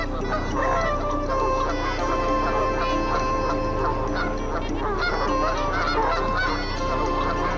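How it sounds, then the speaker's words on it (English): A dense chorus of swans, honking geese and quacking ducks along a Minnesota shoreline, loud and continuous, many birds calling over one another close by. "the symphony of swans serenading the shoreline continued, with ducks and geese providing the harmony"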